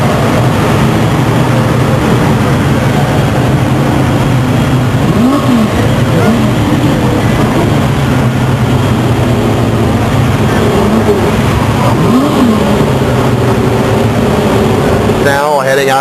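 Race cars roar and accelerate around Stockton 99 Speedway at a 1999 oval race, a dense, steady engine din throughout with a commentator talking over it.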